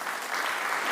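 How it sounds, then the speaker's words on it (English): Steady applause from an audience at an IBC Accelerator pitch session for Movie Labs, a dense, even wash of clapping that holds throughout without pause. "One more round of applause for Movie Labs."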